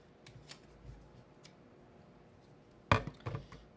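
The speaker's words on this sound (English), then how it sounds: "I'm going to cut off this extra little piece of thread here." Scissors snipping off a spare piece of thread while sewing into paper, a few soft faint clicks early on, then a sharper, louder snip near the end followed by small rustles, close and quiet.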